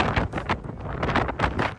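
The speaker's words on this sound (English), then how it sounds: "Still very, very windy." Gusty wind buffets the microphone in irregular roaring bursts on the open top deck of the Norwegian Aqua cruise ship, loud and close, with no voices.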